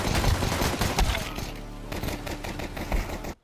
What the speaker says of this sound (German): Jetzt schießen.